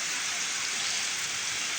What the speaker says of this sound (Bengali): বন্ধুরা দেখেন আমাদের এখানে খুব বৃষ্টি হচ্ছে।